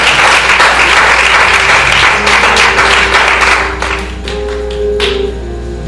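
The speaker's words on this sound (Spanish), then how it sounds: "Dale un fuerte aplauso al Señor." A church congregation breaks into strong applause during a Spanish-language Wednesday worship service, loud and sustained, thinning toward the end as a low hum and a few voices come through.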